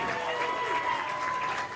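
Steady crowd applause fills a bowling alley at the Class B boys state bowling finals, a continuous dense clatter of clapping without clear breaks, with faint voices in the background.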